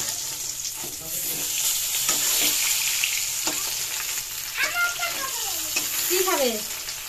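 Fish frying in a pan gives a steady, close sizzle and hiss that runs throughout, with scattered stirring sounds and children's voices chattering over it.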